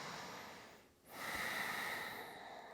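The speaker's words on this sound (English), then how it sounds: "And let's take a few breaths here." Deep breath during a seated yoga twist stretch: a long exhale fading out, a brief pause, then a strong, close, airy inhale that swells and holds before slowly tapering, with no talking.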